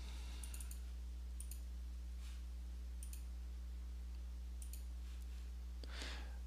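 Computer mouse clicking a few times, sharp, faint, sparse clicks over a steady low electrical hum in a quiet room.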